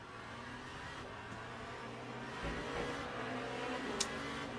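Hypercar engine in the racing sim Le Mans Ultimate, a steady droning hum held at even pitch throughout, with a slight swell in the middle and a brief sharp tick near the end.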